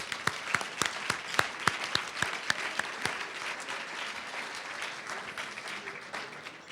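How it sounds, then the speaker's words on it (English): Audience applause at the 2012 AWIU International Women of Courage Awards for Rachel Warby and the Women of Musique: a mid-sized crowd claps steadily, with sharp individual claps standing out early before the sound thins and fades. "Rachel Warby and the Women of Musique need another round of applause"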